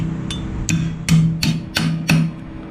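Hammer blows strike a steel bar to bend it past ninety degrees in a metalworking shop, five or six sharp ringing impacts at a steady, roughly half-second rhythm, close and fairly loud with no talking.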